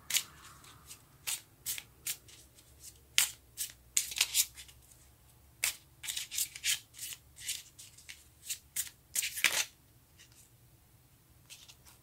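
Tarot cards being shuffled by hand in a quiet room, a run of crisp riffling and flicking bursts at an uneven rhythm, close and fairly clear, with no talking.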